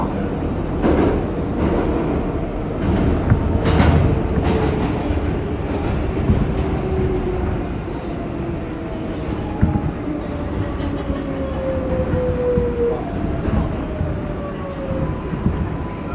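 An R142A 6 train on the New York IRT subway, a Bronx-bound local, rumbles steadily along the tracks, with a continuous low roar, rattling, and occasional faint metallic squeals, heard from inside the car.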